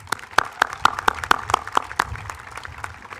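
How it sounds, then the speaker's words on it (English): Scattered, sparse clapping from a graduation commencement audience honoring families, a dozen or so distinct sharp claps spread over a few seconds, fairly close and thinning out toward the end. "One more round of applause for these great families."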